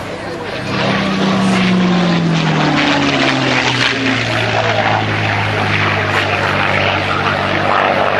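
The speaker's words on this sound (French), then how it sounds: "Quand on tire un peu l'avion, quand on lui donne un peu de facteur de charge, il siffle." A P-51 Mustang roars past loudly, its engine drone shifting in pitch as a high whistle rises and falls over the steady rumble while the plane pulls under load.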